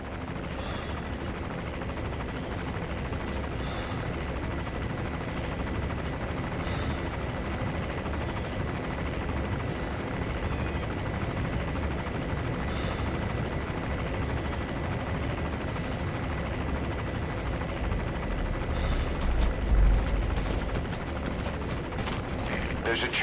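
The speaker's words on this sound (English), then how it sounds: "There's a chopper landing." Steady rotor thrum of a helicopter coming in to land in the Metal Gear Solid V video game, a constant dense drone under faint mechanical clicks throughout.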